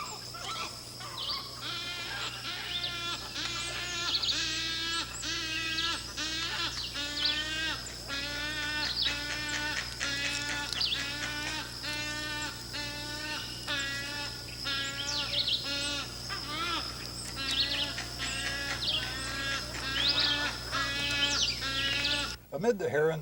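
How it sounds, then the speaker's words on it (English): A dense chorus of wood stork chicks calling nonstop, a harsh bleating, croaking clamor rising from many hungry birds at once over a steady background hum. "the noise made by hungry chicks is incredible"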